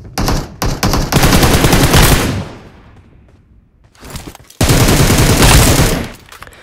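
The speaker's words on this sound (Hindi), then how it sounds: "यहाँ पर मुझे लेफ्ट से एक बंदा भाई फायर देता है और मुझे रोक लेता है" Bursts of automatic gunfire from a PUBG Mobile firefight, loud and close, with rapid volleys in the first two seconds, a brief quiet lull, then another sustained burst of shots.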